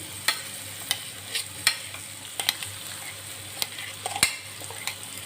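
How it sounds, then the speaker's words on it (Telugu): Curry leaf paste frying in a pan, a steady close sizzle broken by repeated sharp stirring scrapes and taps, with no talking. "మరి కొంచెం పచ్చివాసన పోయే వరకు ఇది ఇది ఫ్రై అవ్వనిస్తాను"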